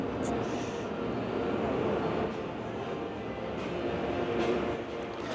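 A train rolling past on a railway track overhead, a steady broad rumble and rattle heard from below the track, fairly faint and continuous throughout.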